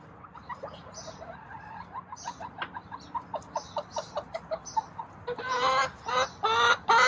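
Hen in a coop, anxious to lay an egg, giving a rapid run of rhythmic clucks that builds into louder squawking calls, close by.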